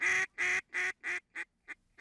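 Real and decoy geese at a retriever training site give a series of seven sharp honks, the first few loud and evenly spaced, the later ones shorter and fading, with no talk.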